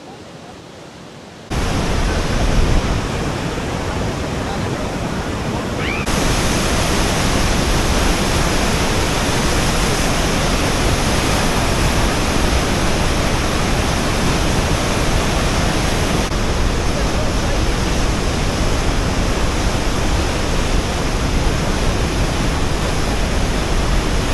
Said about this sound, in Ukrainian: Вода тут настільки шумна і вона настільки сильна